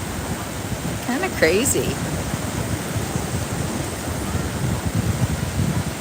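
Shallow ocean waves wash onto a beach as a steady, broad surf roar with low rumbling, while a person speaks briefly near the start over the continuous wash.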